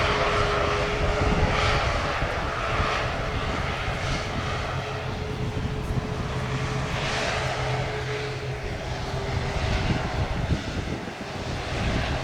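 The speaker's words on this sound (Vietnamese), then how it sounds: "mời mọi người chiêm ngưỡng pha cất cánh của chiếc máy bay đặc biệt trong ngày hôm nay nha" A China Airlines jet in Zootopia livery takes off from Tan Son Nhat airport, its engines giving a loud, steady, broadband roar with a faint tonal whine that holds throughout.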